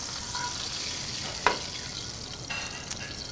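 Catfish and yellow onions fry in a pan with a continuous soft sizzle and a sharper crackle or utensil tap partway through, fairly quiet and with no voices.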